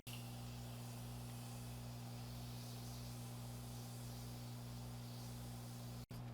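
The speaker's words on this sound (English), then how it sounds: "So I'm just going to spray this all over." A continuous fine spray of makeup setting spray onto a face hisses steadily for several seconds, then cuts off abruptly near the end.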